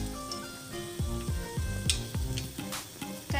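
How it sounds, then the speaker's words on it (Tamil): Mustard seeds spluttering in hot oil in a pan while tempering for a vegetable kuzhambu, a steady close sizzle broken by repeated sharp pops and crackles, with no talking. "கடுகு நல்லா பொரியட்டும்."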